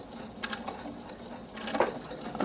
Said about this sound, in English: you're going to sew towards the end a couple stitches, and then you're going to reverse